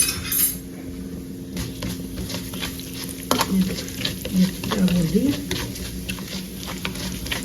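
Mustard, fenugreek, nigella and fennel seeds crackle in hot oil for a mixed vegetable pickle, a dense close sizzle with stirring clinks and a voice speaking over it.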